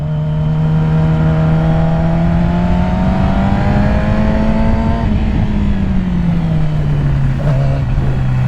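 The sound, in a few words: Yamaha YZF R6 four-cylinder motorcycle engine revving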